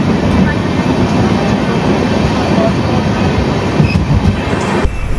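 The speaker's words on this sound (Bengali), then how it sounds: "নবাবের শহর মুর্শিদাবাদকে বিদায় জানিয়ে এখন আমাদের ট্রেন আবার চললো নিজের গন্তব্যে" A passenger train runs on the tracks just after leaving Murshidabad, on a journey from Kolkata toward Kamakhya. A loud, continuous close-up rumble of wheels and carriages rolls on throughout, with faint squeals and a sudden drop at the very end.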